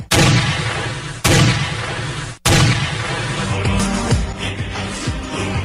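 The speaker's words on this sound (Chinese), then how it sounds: "三颗子弹准确地击中日本第一任首相、时任朝鲜统监的伊藤博文。" Gunshots in a reenactment of a historic assassination on a railway station platform: three loud, booming blasts roughly a second apart, each with a long reverberant tail.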